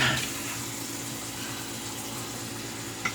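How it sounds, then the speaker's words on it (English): Warm water runs steadily from a tap as a razor is prepared for shaving, a soft continuous hiss of flowing water at moderate distance, with a small clunk near the end and no talking. "So let's get some warm water going."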